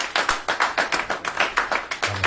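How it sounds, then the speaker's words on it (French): A church congregation applauds with brisk, rhythmic clapping, a steady run of loud close claps lasting a couple of seconds and ending as a low voice begins. "Acclamons encore Jésus"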